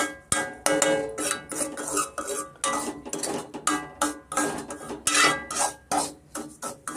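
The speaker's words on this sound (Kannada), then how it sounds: "ಮೀಡಿಯಮ್ ಫ್ಲೇಮಲ್ಲೇ ಸ್ವಲ್ಪ ನಾವು ಈ ಥರ ಹುರಿದುಕೊಂಡ್ಬಿಟ್ರೆ ಸಾಕಾಗುತ್ತೆ" Dry rava semolina scraped and stirred in a pan over a medium flame, a steady rasping, scratchy rhythm of spoon against metal with repeated short strokes, close and fairly loud, no talking.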